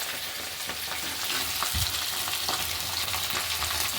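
Fish oil, potato and eggplant fry in a pan as they are stirred, producing a steady close hiss and sizzle with a few soft scraping strokes.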